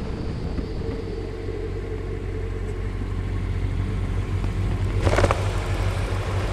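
Motorcycle engine running steadily on a ride near Neuffen by Burg Teck, a low continuous rumble throughout with a brief louder surge of wind or revving near the end.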